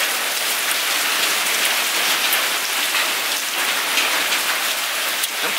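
Dense, loud hailstorm pelting a house in a hillside village, a continuous hiss of countless hard impacts drumming on surfaces with no pauses or voices.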